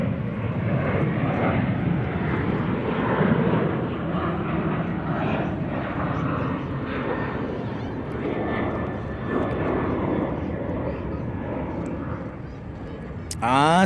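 Boeing 777 airliner, an American flight from Munich, landing at Charlotte Douglas International Airport: a loud, steady, broad jet roar that holds close and constant throughout.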